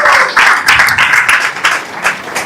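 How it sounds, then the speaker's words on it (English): A small crowd at a museum opening gives a loud, close round of applause in uneven bursts of clapping. "Let us give a big round of applause for Sutakriti Prabhu."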